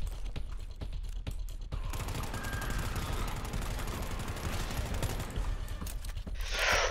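Shotgun blasts and chaotic gunfire from the co-op shooter game GTFO fill the mix, dense with mechanical clatter, one sharp burst at the start and another loud hiss near the end.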